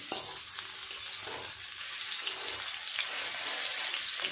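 Spinach fritters crackle and sizzle steadily in hot oil as they are flipped, a dense continuous hiss close up with faint pops throughout.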